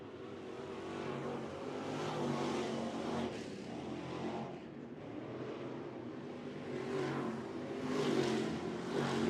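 Lucas Oil late model race cars thunder around the Golden Isles speedway, a continuous roar of engines swelling and fading as cars run down the back straightaway, heard at moderate distance without speech.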